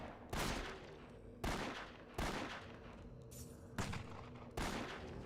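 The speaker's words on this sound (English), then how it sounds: "Lara Croft dual wields pistols, akimbo style." Lara Croft's dual pistols fired akimbo in a video game, five loud separate gunshot bursts spaced about a second apart, each decaying into a brief echo.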